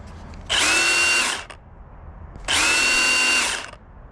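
A small chainsaw-like power tool revs in two sharp high-pitched bursts of about a second each, whining loudly up close, with a quieter idle in between and after.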